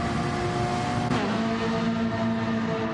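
Ferrari and Porsche race cars drive at speed, with a steady, loud engine drone that shifts pitch about a third of the way through as one car closes in.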